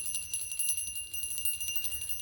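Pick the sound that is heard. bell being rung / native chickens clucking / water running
bell being rung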